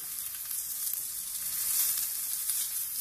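An egg cooking in a pan for a French crepe gives off a steady, even sizzle with soft crackling, close and continuous throughout, with no voices.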